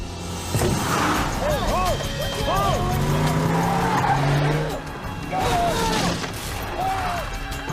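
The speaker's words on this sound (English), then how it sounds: "3 vehicles just broke through the barricade" Vehicles smashing through a barricade in a film scene, with tires squealing, engines roaring and skidding under tense music and shouted voices, loud and busy throughout.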